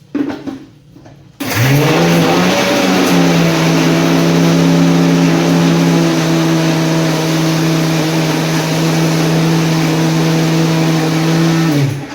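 A mixer grinder blends garlic, coconut, curry leaves, tomato, cumin and ginger for a Latur-style vada amti. After a brief quiet start it kicks in with a loud, steady motor whine that runs unbroken for about ten seconds, with no talking.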